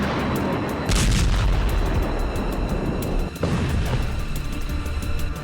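Continuous heavy rumbling bomb explosions with repeated blasts, loud and dense throughout, like distant bombardment rolling without pause.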